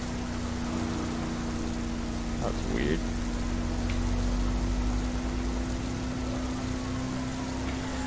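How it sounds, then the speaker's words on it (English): Steady rainfall in GTA 5 hisses as a continuous wash of broadband noise with a low engine-like hum underneath, plus a couple of brief faint blips. "It's been raining for quite a while"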